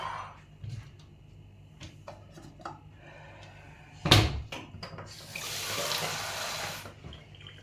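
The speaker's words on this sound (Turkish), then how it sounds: "kasemize az bir soğuk su aldık" Cold tap water runs steadily into a bowl in a kitchen for a couple of seconds near the end, after scattered clatter and a sharp knock, with no talk.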